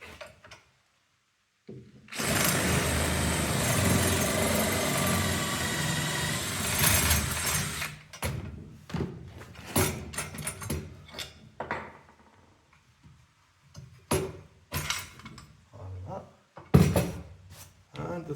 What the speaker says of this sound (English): And the third hole, we'll just drill it all the way through.